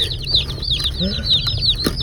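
Repeated high, thin peeps from meat chicken chicks chirp in a quick, continuous chorus close by, with a low background rumble and some faint rustling.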